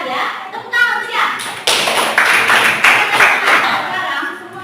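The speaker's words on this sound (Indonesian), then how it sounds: "Tepuk tangan siap" A Catholic religious education class of eleventh graders claps together in a short patterned routine, a run of sharp, fairly close hand claps and taps, with children's voices and talk in the room around them.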